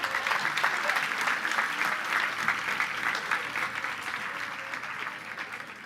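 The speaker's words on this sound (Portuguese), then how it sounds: "Aplauda o Senhor mais uma vez aí" A church congregation breaks into sustained applause, dense rhythmic clapping filling the hall steadily and slowly easing off toward the end.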